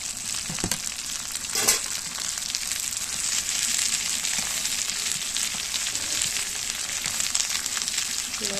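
Moringa leaves fry in a pan with a spice paste, making a loud, continuous close sizzle with a few brief stirring scrapes and no talking.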